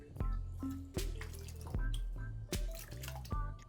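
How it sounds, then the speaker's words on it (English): Cooked noodles are drained and rinsed in cold water in a home kitchen, giving a run of close dripping and splashing sounds with sharp water plops at irregular intervals. "So now I drain them and put them in the cold water straight away and wash them really well."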